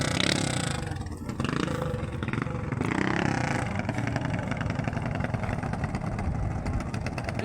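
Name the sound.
big bike motorcycle engine revving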